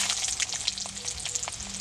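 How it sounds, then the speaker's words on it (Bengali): A whole bay leaf, black cumin, chopped ginger and garlic fry in smoking-hot oil for green chilli pickle, with a close, continuous crackling sizzle and small pops. "এই গরম তেলে দিয়ে দিচ্ছি একটা গোটা তেজপাতা, কালো জিরা, কেটে রাখা আদা আর রসুন"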